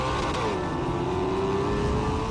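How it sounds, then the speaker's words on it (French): A Maserati GranTurismo engine holds a steady, loud drone, its pitch dipping slightly then rising, with no one talking over it. "cette Maserati Gran Turismo dont je rêve et qui fait un bruit si délicieux"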